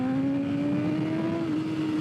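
A motorcycle engine revs during a clutch-up wheelie with traction control off, its close, continuous note rising steadily in pitch, with no talking.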